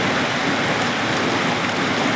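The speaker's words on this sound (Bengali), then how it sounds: "প্রচুর বৃষ্টি হচ্ছে, বিশাল বৃষ্টি।" Heavy monsoon rain pours down in a steady, dense, loud hiss that stays unbroken throughout, with no voices over it.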